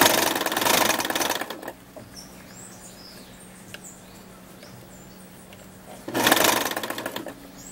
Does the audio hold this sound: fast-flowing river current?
no